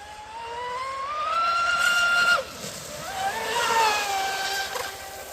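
Oxidean Dominator RC boat on an 8S battery screaming at full throttle, a high rising electric whine that climbs, drops sharply near the middle, then surges back up, loud and close over water noise.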